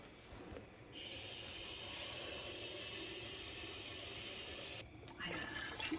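A steady rush of water poured over berries in a pot for canning juice fills most of the clip, starting and stopping abruptly, with faint handling noises before and after.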